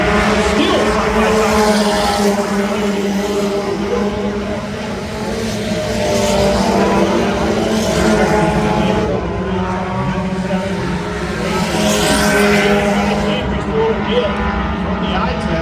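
Dirt-track race cars roaring through a heat race at Adams County Speedway, loud continuous engine drone rising and falling as cars pass, with an announcer talking over it throughout.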